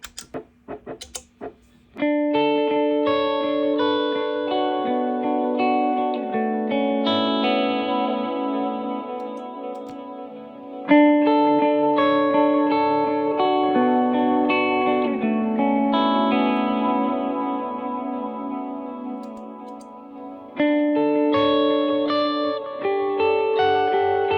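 Electric guitar notes played through a delay effect on stereo amp settings of an ACS1, each phrase trailing into repeating echoes that hang and overlap, alone with no voices.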